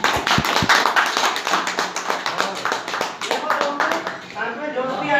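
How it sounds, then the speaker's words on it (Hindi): Loud clapping from an audience at a business seminar, honoring Ganesh ji: dense, sustained hand claps filling the room from start to finish, with a few sharper claps near the beginning. "गणेश जी के लिए एक बार जोरदार तालियां।"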